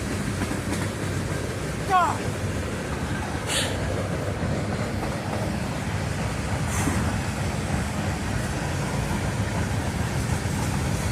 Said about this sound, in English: all of a sudden, this train just came up on me